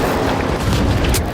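A frag grenade detonates in the video game THE FINALS, a loud, close, low booming blast that rumbles and fills the short moment.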